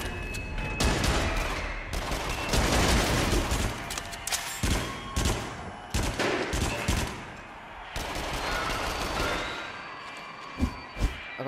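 Rapid bursts of dual Uzi submachine gun fire in the horror shooter Until Dawn: Rush of Blood, loud and continuous volleys with brief gaps and a few sharp final shots, no talking.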